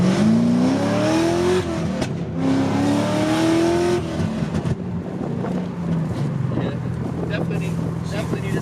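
A Cadillac CTS-V engine revs in a few rising surges, pausing between pulls and then settling into a rougher idle, loud and close, with a ticking noise noted on the car.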